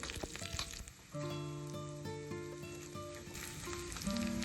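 Mustard seeds, dried red chilies and curry leaves crackle and sizzle in hot oil for a Kerala moringa tomato curry tempering, a dense continuous fry under a steady tone, with no talking.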